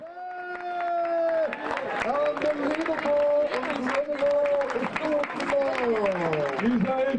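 Teams applaud on stage at the Trompe-Boule world cup in Le Mans, a dense, steady patter of many hands under a close voice talking throughout.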